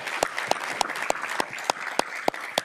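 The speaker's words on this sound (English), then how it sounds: "I want to give all of you a round of applause for your help, your partnership, and your leadership in getting us here" Committee members at a joint money committee meeting applauding together, a steady mass of clapping with a few louder, sharper single claps standing out at regular intervals, no talk over it.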